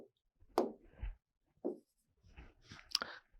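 Chalk or marker writes an answer on a classroom board during a Class 12 physics lesson, giving short scratchy strokes in several separate bursts with pauses between them, close and fairly quiet.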